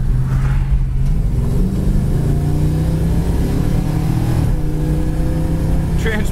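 A 1969 Plymouth Road Runner engine revs and climbs in pitch. A gear change drops the note near the middle and the engine then builds again, loud and close, with a voice talking briefly.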